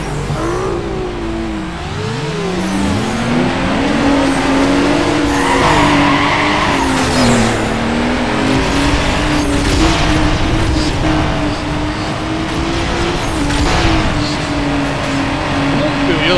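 Very fast cars drag race in Need for Speed Underground 2. Loud engines rev and roar throughout, with repeated tire squeals and skids over the sustained motor noise.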